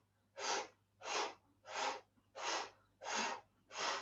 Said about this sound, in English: Fiery breath to warm up through the center now.